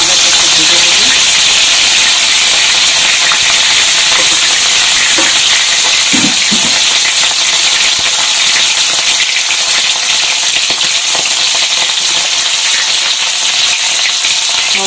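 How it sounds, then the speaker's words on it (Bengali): Dried loitka fish sizzling in hot oil in a pan, a loud steady crackling hiss that fills the whole stretch, with faint stirring bumps underneath. "এই তেলের মধ্যে মাছগুলো দিয়ে"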